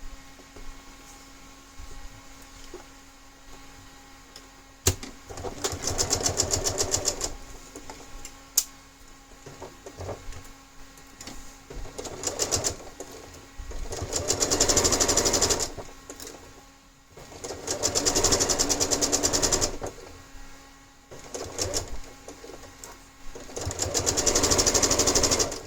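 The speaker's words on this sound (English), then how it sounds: "then we'll go ahead and sew this one" A sewing machine stitches a quilt block in several bursts of steady, fast whirring, each lasting a few seconds and separated by brief pauses, close and fairly loud with no talking.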